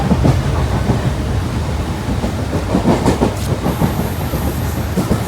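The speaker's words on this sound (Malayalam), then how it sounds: "നമ്മൾ ട്രെയിനിൻ്റെ അകത്ത് കയറി" Loud, continuous rumble and rhythmic clickety-clack of a moving train heard from inside a carriage, with a faint high whine later on.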